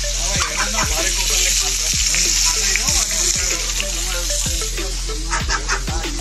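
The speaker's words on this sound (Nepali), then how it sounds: "यता चाहिँ हाम्रो माछा फ्राई हुँदैछ है" Fish fries in hot oil with a constant loud sizzling hiss, accompanied by a steady low hum and repeated knocking sounds at regular intervals.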